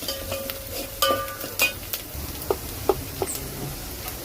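Onion sautéed in a pan until browned for a Maharashtrian chicken rassa crackles steadily at a low level, broken by sharp spatula clicks and scrapes against the pan, with no voices.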